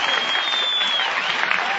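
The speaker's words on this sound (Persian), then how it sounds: "خواهش میکنم یک بار دیگه تشویق بدون سود بفرمایید" An audience claps loudly and steadily for nearly two seconds, a dense, even wash of applause from a crowd at a comedy show.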